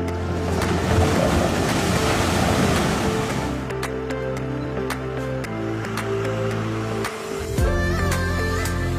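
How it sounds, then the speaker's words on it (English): An amphibious bus driven by two propellers moves across water, producing a steady rushing wash of water and engine noise under a continuous musical backing. "A standard internal combustion engine functions while the bus travels on land, whereas it is powered by two propellers on water."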